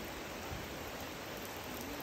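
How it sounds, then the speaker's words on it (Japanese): A heavy downpour falls as a faint, even, continuous hiss of rain with no break or change in intensity. "やっぱすごい雨です。 今が一番強い。"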